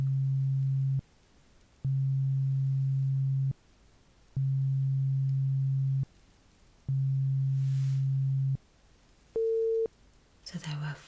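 Hearing-test tones sound in a steady sequence: four long, low, pure beeps separated by short silences, then a shorter, higher beep, followed by a faint rustle at the end.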